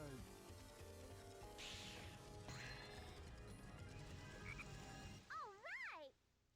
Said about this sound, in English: It's a giant froggy.